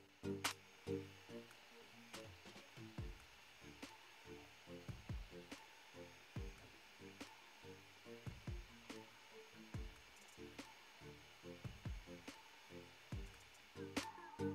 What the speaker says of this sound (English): Please, just listen to the printer.